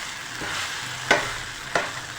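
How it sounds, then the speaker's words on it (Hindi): Potatoes roast with turmeric and spices in a pan for aloo bharta, giving a steady low sizzle. Two sharp utensil taps stand out, and no one speaks. "अब हम इसकी करेंगे इस मसाले के साथ भुनाई।"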